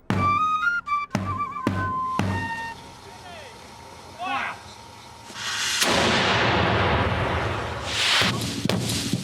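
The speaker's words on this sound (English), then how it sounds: "Time to wheel out the cannon." A cannon with a one-mile range fires at close range, 250 feet, giving sharp broadband blasts with rumbling decay, one near the middle and another shortly after, following earlier clanks and thuds.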